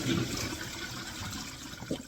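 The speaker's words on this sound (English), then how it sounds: "I'm gonna go ahead and start to rinse my broccoli off while the chicken is marinating" Tap water runs steadily over broccoli that had soaked in vinegar, a continuous close splashing hiss while it is rinsed.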